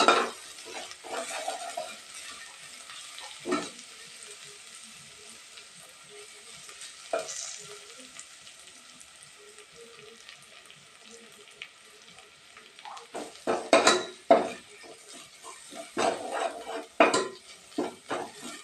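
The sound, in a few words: dried red chillies frying in oil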